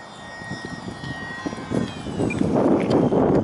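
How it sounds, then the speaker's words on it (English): A small, ruggedly built ultralight propeller plane's engine drones steadily, rising in loudness toward the end, with wind buffeting in the background. "A lot of wind for a little plane."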